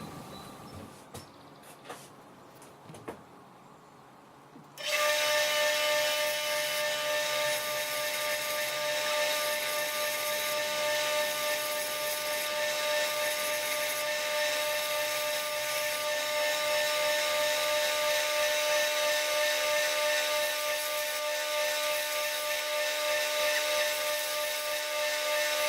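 Triton chisel sharpening system's sander starts up after a few quiet knocks, then runs as a loud, steady mechanical whine with sustained tonal hum, close and unbroken for about twenty seconds.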